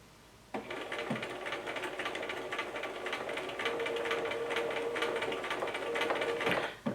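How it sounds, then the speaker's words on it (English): A sewing machine runs continuously for about six seconds, stitching along the edge of a bias-cut fabric after the presser foot is lifted. The motor hums steadily and the needle chatters rapidly, close and fairly loud, with no voices. "Now I'm going to lift my presser foot again and start stitching this edge right here."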